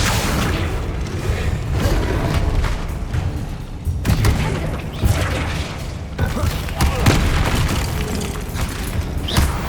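Booming explosions from the Bombarda spell in the video game Hogwarts Legacy land one after another amid heavy combat noise and rumble, and a voice is heard under the effects.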